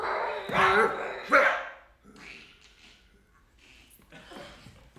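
A dog barks and yelps in short bursts up close, mixed in with a person scolding it, then quieter vocal sounds follow as the talk continues.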